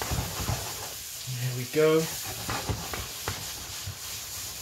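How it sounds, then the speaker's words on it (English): Garlic sizzles softly in a hot pan, a faint steady hiss under a man's brief spoken words and some utensil stirring sounds. "Hear that sizzle? That's what we want."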